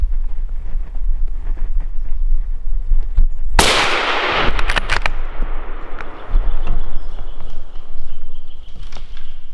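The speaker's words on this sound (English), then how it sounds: "I just shot a buck." A rifle shot fired at a roebuck during a deer hunt in Sweden, one sharp loud crack followed by a few quieter knocks and handling noises amid outdoor wind.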